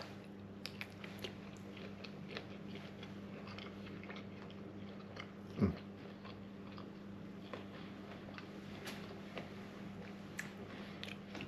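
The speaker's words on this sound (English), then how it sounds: "Taste shrimp." Shrimp from a gourmet seafood boil being eaten, with soft bites and wet chewing sounds heard close and quiet, alone without talk, plus one brief louder squish near the middle.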